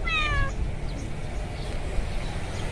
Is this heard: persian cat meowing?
yes